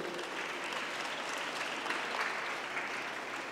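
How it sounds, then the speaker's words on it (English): Children clapping during a Bal Vikas satsang gathering, a steady dense wash of applause from a group held at even level throughout. "The moment he heard samosa, he is clapping it."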